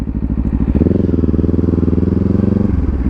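A 2024 Kawasaki Ninja 500 idles with a loud, rapid, even engine pulse close by, the tone stepping up in the middle as the throttle rises, then dropping back as it is shifted.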